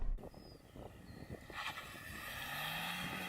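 A Mercedes A-Class with 177 hp launches from standstill, a broad roar of engine and rushing wind building steadily as it accelerates, with a low engine tone rising near the end.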